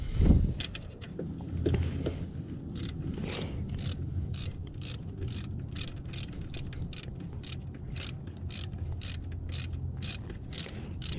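A ratchet clicks in quick, regular bursts while tightening engine bolts on a Honda Accord Crosstour during an alternator and solenoid gasket job, close and crisp over low shop background noise.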